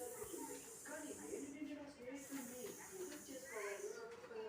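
A spotted snake crawling out of beach sand hisses in a steady, airy stream that runs beneath a voice narrating a children's story throughout.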